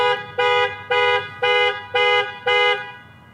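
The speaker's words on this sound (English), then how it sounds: "So it just beeps the horn and flashes the lights." A 2019 RAM 1500 Laramie pickup truck's panic alarm sounds the horn in six loud, evenly spaced beeps, each a bright honk about a third of a second long, then stops.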